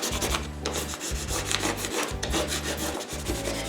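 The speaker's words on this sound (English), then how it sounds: "you're just going to rub both sides of it right across, like so, and on the other side" A plastic credit card rubbed firmly back and forth across a surface to burnish, making a continuous near scraping rub that comes in repeated strokes with brief pauses.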